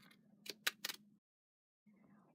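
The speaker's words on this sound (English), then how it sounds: "And now we're going to trim the edges with the fancy edge scissors." Fancy edge craft scissors trim the edges of textured writing paper for a handmade card, giving three quick crisp snips close by, a short pause, then a faint rustle of paper.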